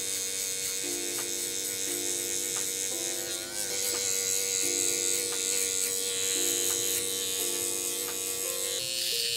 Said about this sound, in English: So I'm gonna put the skin line in with the taper blade, and that's gonna cause a nice soft line.